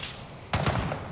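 Gunfire in the shooter game Gray Zone Warfare: two or three sharp, close shots in quick succession, then another crack at the end, over a quiet ambient backdrop.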